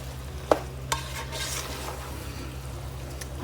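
Goulash ingredients with tomato juice being stirred in a pot on a stovetop burner, a low hiss of cooking under a couple of sharp utensil clinks against the pot.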